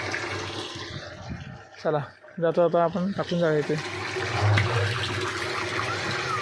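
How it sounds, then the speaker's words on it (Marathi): Water is drained out in the foggy morning, a steady gushing and trickling heard up close while someone talks over it. "आपण आपले पाणी खाली करायला आहे. बघा पाणी ते खाली करून आपलं जायचं आहे."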